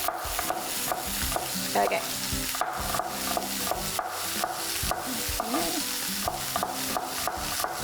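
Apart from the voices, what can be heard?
chicken searing in a pan with salt and pepper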